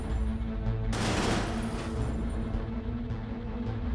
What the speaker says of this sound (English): rattle off a few rounds from the machine gun into the target